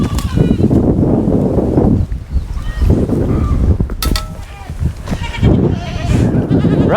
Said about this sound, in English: look how fat these goats are when they come in here